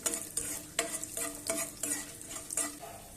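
Chana dal, peanuts and urad dal fry in oil for upma with a crackling sizzle, while a spoon scrapes and stirs the pan in repeated, rhythmic strokes close by.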